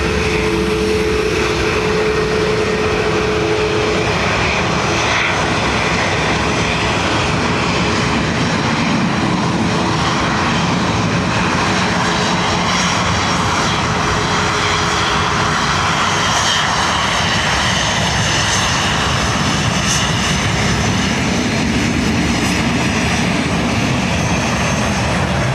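An airliner takes off from runway 10 right at Dublin Airport, a loud, continuous roar of aircraft engines filling the whole stretch with steady, broad-band power.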